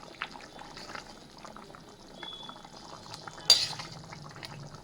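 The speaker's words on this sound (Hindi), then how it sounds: "तो दोस्तों ये उबलने लग गई है।" A pot of water coming to a boil on a gas stove while cooking lunch, with soft continuous bubbling and small liquid pops, plus a brief louder clatter near the end; no talking.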